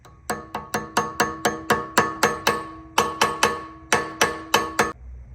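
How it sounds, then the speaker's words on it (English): A hammer taps a key into the flywheel of a Predator 224cc small engine, giving about twenty sharp metallic strikes in a steady rhythm with short ringing decays. The strikes are close and fairly loud, with a brief pause midway and no talking. "And tap it with the hammer."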